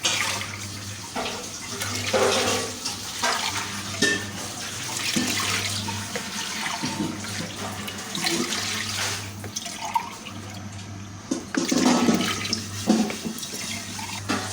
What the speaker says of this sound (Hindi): ये अब हम इसमें पानी शामिल करेंगे।